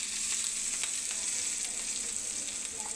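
Eggplant slices sizzle steadily in a hot pan with turmeric for neem-begun, a dense, even frying hiss that holds close and loud throughout with no voices.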